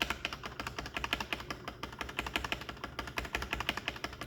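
Rapid, steady typing on an XVX M61 wireless gaming keyboard with pre-lubed stabilizers, a dense run of close clacky keystrokes that continues without pause and without any voices.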